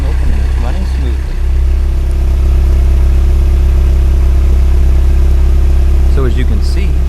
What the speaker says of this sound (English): the car's no longer smoking and it's running smoothly